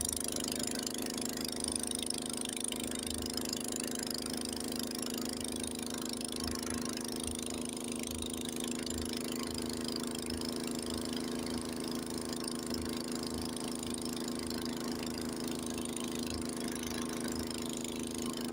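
A Honda snowblower engine runs steadily in deep snow during a Lake Tahoe snowstorm, a faint, constant mid-pitched drone with slight rhythmic pulsing throughout and no voices.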